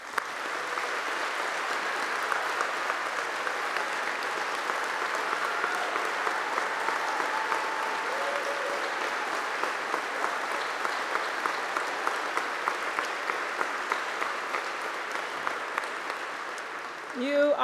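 Sustained audience applause at the 2015 W.E.B. Du Bois Medal ceremony saluting the honorees, steady and full-bodied across the hall from start to finish, with a voice beginning to speak faintly at the very end.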